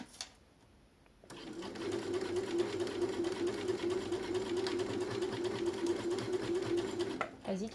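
A sewing machine stitches fabric with a steady, close mechanical whirr that starts after a quiet moment and runs continuously for several seconds, while people talk over it.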